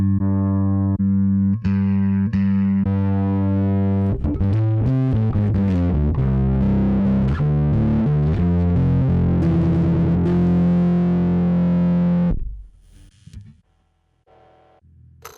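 An overdriven bass guitar runs through a Zoom B1 Four effects processor, loud and distorted, with plucked notes and sustained gritty tones played for about twelve seconds before decaying into a faint tail.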